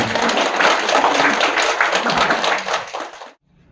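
An audience of families at a company family camp lecture claps warmly, dense continuous applause that holds steady for about three seconds and then stops abruptly.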